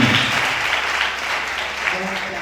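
A crowd claps continuously, a dense patter of applause with voices mixed in underneath.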